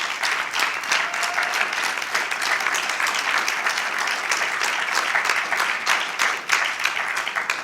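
A conference audience at a health event applauds steadily and loudly, a thick continuous wash of many hands clapping that holds for about eight seconds without pause.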